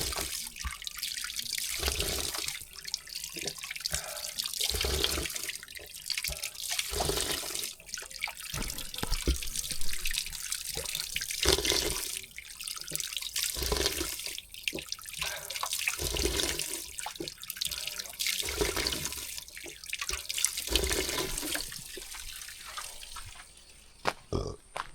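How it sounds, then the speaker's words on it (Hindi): Mountain spring water pours without pause from a stone spout (naula) in the Kumaon hills, a steady broadband rush of flowing, splashing water close by that runs the whole time with no talk over it. "वो है ये धारा या नौला, जहाँ पे पहाड़ों का मिनरल पानी आता है नॉन स्टॉप अनलिमिटेड।"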